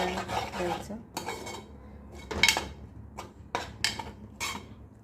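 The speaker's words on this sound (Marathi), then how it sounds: "परत ढवळून घ्यायचं आहे चांगलं।" A spoon stirs usal, a Konkani-style sprouted black pea curry, in a metal pot with oil, giving repeated clanking scrapes against the sides in uneven bursts, close and fairly loud.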